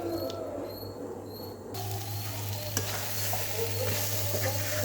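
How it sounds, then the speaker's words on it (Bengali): Thick palm fruit pulp for tal khir is stirred in a pot, with close, busy scraping and soft bubbling against a low steady hum that grows louder partway through; no one speaks. "এমনভাবে নাড়তে হবে যে নিচে লাগতে দেওয়া যাবে না"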